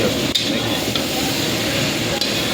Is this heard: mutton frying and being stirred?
yes